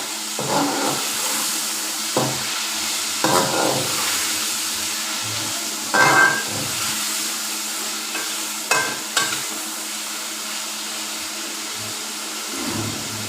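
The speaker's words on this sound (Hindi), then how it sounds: "इसका कलर चेंज होने तक इसको फ्राई कर लेते हैं।" Chicken pieces for chow mein fry in a pan with a constant close sizzle, broken by repeated scraping stirs at irregular intervals.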